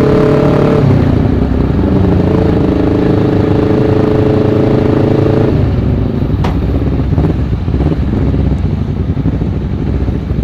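Honda CBR250RR or Yamaha Byson motorcycle engine running loud and close, a steady rumble that shifts and thins midway with a few sharp blips.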